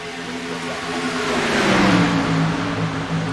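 Several race car engines in the Asphalt Outlaws Racing video game roar together in a steady, loud drone that swells and peaks midway as they rev, with no voices over it.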